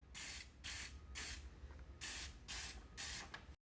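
An aerosol spray can paints a kitchen cabinet door in six quick hissing passes, each burst about half a second long with brief gaps, close and steady until it cuts off.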